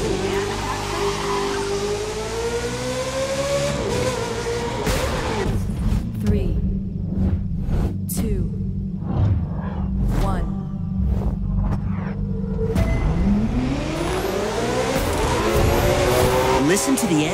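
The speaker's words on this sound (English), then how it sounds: "Listen to the engine." A race car's engine revs in The Crew 2, with rising and falling pitch, brief tire squeal, and a voice talking over the steady engine drone.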